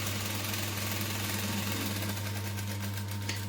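A sewing machine runs steadily, stitching up the side seam of a fabric piece, a continuous close mechanical hum with fast regular needle chatter throughout and no talking.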